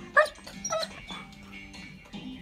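A female dog whines and whimpers to be let out, giving a few high, strained cries and short yips close by, then quieter whimpering.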